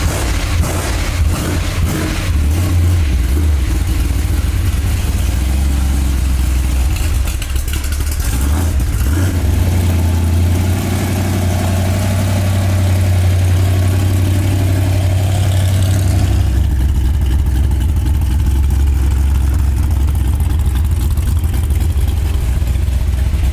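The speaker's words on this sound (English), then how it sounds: "So fire it up, give it a pump." A C10 truck engine fires up inside a shop and runs with a loud, steady low rumble and revs throughout, settling into a deeper idle near the end.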